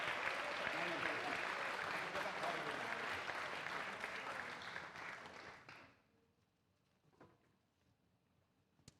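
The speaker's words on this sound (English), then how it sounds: "Let's give a huge round of applause for senior Rio Posable." An audience at a high school spring band concert bursts into sustained applause for a graduating senior, dense clapping that holds steady for about six seconds before cutting off to near silence.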